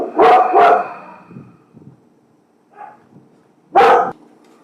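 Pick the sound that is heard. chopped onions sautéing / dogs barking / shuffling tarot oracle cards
dogs barking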